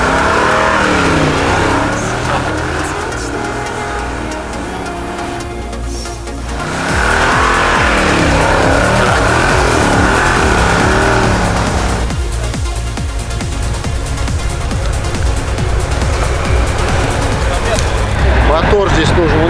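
A Tank 300 SUV engine revs hard and rises and falls as it strains up an off-road climb, loud and close, with people talking over it throughout.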